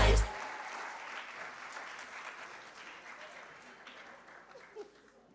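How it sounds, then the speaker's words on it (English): An audience at a youth leadership symposium applauds after a speaker finishes, opening with a loud burst and then settling into steady, moderately distant clapping that fades gradually, with faint voices mixed in. "Let's give Miss Valine another round of applause"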